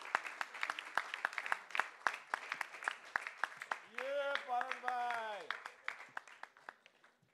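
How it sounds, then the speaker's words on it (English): Scattered clapping from an audience at an annual general meeting, sparse irregular claps throughout with a voice speaking over the middle section. "Round of applause."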